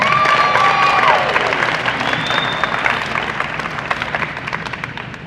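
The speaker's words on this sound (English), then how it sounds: "Let's give these two one more round of applause." At a high school signing day, a crowd applauds two athletes with dense, loud clapping that slowly tapers, while a bright whistle-like tone slides through the first seconds.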